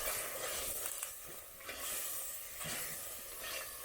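Kale (sukuma wiki) stirred in a cooking pot over a village fire, soft hissing sizzle with faint scraping strokes rising and falling steadily, close and fairly quiet, no talking.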